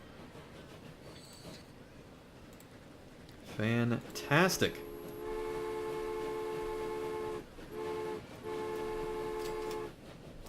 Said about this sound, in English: We got our new line and our new train.